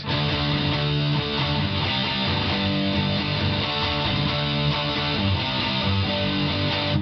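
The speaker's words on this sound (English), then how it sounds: "when we listen to the guitar completely dry" A clean, completely dry electric guitar plays chords and notes with no added effects, steady and moderately loud throughout, with no voices.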